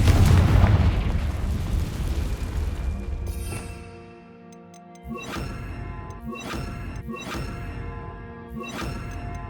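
A Confringo blasting spell goes off in the Hogwarts Legacy video game: a loud booming explosion with crashing debris at first, fading out, then a series of sharp repeated blasts and impacts at steady intervals, near and with no talk.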